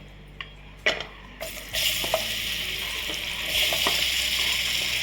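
Raw mango pieces sauté in a pan with turmeric, starting with a few utensil knocks and then building into a loud, steady close sizzle as they are stirred.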